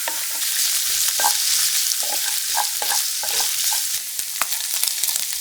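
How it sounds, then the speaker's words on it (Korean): Garlic stir-frying in a pan, a bright continuous sizzle with scattered scrapes and taps of the spatula against the pan, close and fairly loud, no voices. "마늘을 더해서 볶아 색깔이 나기 시작하면"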